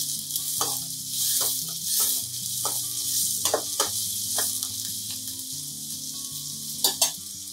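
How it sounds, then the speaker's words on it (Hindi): Onions sizzle steadily in a frying pan with a bright, hissing fry throughout and occasional sharper crackles and spoon scrapes, close and fairly even, with no talking. "प्याज को थोड़ा सा हमें लाल कर लेना है, गुलाबी हो जाए बस"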